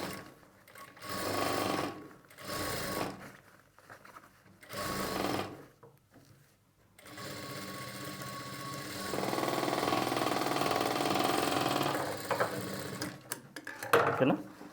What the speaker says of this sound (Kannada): ನೆಕ್ಸ್ಟು ಇದಕ್ಕೆ ಹಾಗೆ ಡಬಲ್ ಸ್ಟಿಚ್ನ ಮಾಡಿಕೊಂಡ್ರೆ ಆಯಿತು.